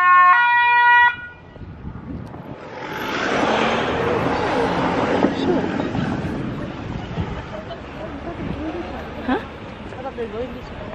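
On an Amsterdam street, after a brief musical chime, an ambulance siren wails and sweeps past with traffic noise, loud at first then fading slightly, with voices talking over it.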